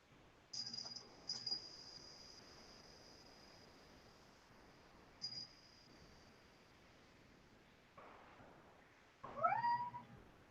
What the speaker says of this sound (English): That's my kitty in the background.